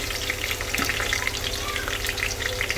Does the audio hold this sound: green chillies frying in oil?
yes